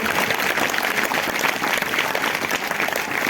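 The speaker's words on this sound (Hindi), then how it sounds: "अगर आए तो जोरदार तालियां बजाएंगे" A congregation claps loudly and continuously at a Wednesday church service, the applause dense and steady from start to finish with faint crowd noise underneath.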